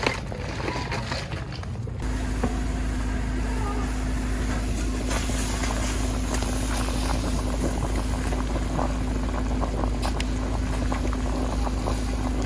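Haesintang soup boils in a pot over a wood campfire outdoors, giving a steady, dense bubbling and simmering rush with a low hum underneath. It continues evenly after a quieter opening moment.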